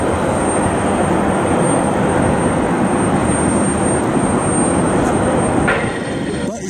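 An Allegiant airliner in special livery with green, yellow, blue and red stripes, heard from a plane spotting spot at Cleveland as a loud, steady broadband jet roar that fills the whole span and eases slightly near the end.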